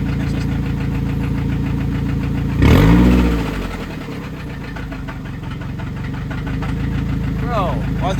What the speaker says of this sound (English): That rod knock. You got rod knock.